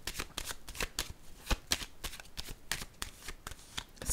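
A deck of tarot cards is handled and shuffled up close, giving a rapid, uneven run of crisp papery flicks and riffles with no talking.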